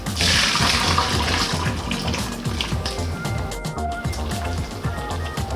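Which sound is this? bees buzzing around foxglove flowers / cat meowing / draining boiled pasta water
draining boiled pasta water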